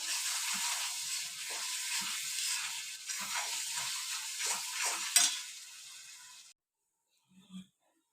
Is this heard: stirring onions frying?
yes